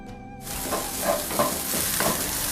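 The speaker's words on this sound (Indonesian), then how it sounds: "panaskan sedikit minyak dan tumis bawang putih beserta jahe" Garlic and ginger sautéing in a little hot oil, a loud dense sizzle bursting in as they hit the pan, then continuing with several scraping stirs, close and without talk.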